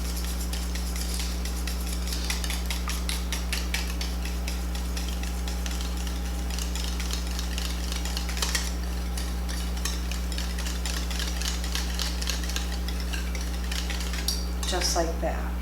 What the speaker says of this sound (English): with my whisk, I'm going to whisk together the sour cream and the eggs until smooth